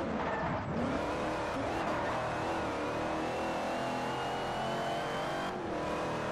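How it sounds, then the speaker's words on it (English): A Plymouth Hemi Cuda in the Forza Horizon 2 racing game revs hard and roars continuously up close, with a dense engine drone and occasional tire noise running through the whole stretch. "I'm gonna just let the engine do the talking right now"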